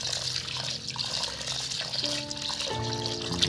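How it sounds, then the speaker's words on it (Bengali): Rice being washed in water for chicken pulao, with close sloshing, trickling and pouring water, faint clinks and splashes, and brief tonal ringing near the end. "এবার এটাকে ভালো করে দুবার তিনবার ধুয়ে আমি এটাকে এক ঘন্টা ভিজিয়ে রাখবো"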